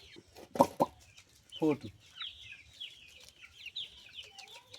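Chickens in a flock of about a hundred seven-week-old birds cluck in short bursts, with quieter chirps and calls trailing behind, as one person briefly speaks.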